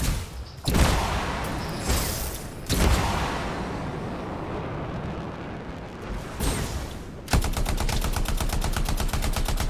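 Enemy gunfire aimed at the player in the video game Anthem: heavy bursts and booming blasts punctuate the first seven seconds, then a loud, steady rapid-fire machine-gun rattle takes over to the end.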